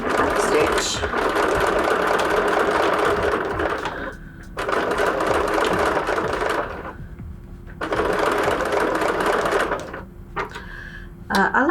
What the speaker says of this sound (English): A little bit of back stitch.